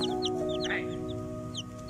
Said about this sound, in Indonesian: Anak ayam yang comel.